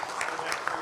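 Clapping from an audience at a sports league player draft ceremony, a short burst of hands with a few sharper individual claps standing out.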